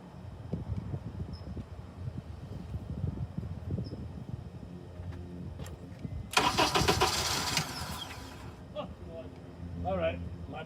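A car engine cranks over without fuel and fails to start, a loud churning burst of starter whirring in the middle of the stretch, with someone talking before and after it.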